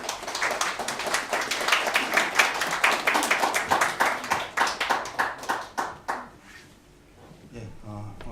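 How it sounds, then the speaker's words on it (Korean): An audience at a Korean book launch for a memorial webtoon claps in warm welcome of an invited speaker, a steady burst of many hands that thins into scattered claps and fades out, with a voice briefly heard near the end. "큰 박수로 맞아주시기 바랍니다"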